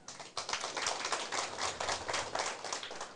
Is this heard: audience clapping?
yes